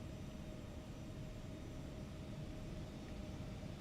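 A jet airliner takes off from a far runway at an airport in the X-Plane 12 flight simulator, heard as a steady, distant broadband roar that holds even and unbroken throughout, with no voices.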